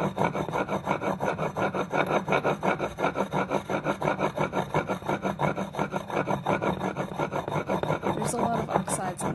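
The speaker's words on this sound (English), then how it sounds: "There's a lot of oxides on this one, so I have to scrub it pretty good." An organ pipe being scrubbed clean of oxides before soldering: a rhythmic, rasping back-and-forth scrubbing close up, with steady strokes of roughly two per second continuing for the whole stretch with no talking.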